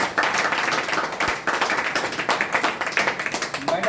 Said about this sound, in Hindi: मैडम के लिए भी जोरदार तालियां।